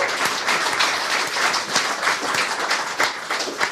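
An audience applauds steadily for a volunteer coming up onto a comedy show stage, a dense, even wash of clapping throughout.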